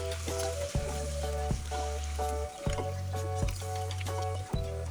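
Spices, including black pepper powder, are stirred in hot oil in a pan for a spicy chicken tikka karahi, giving a continuous sizzle and frying hiss broken by repeated scraping strokes and sharp knocks of the spoon against the pan.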